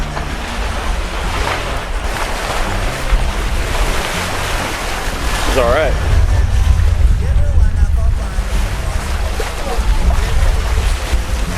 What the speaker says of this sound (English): There's some pretty rolly waves coming in too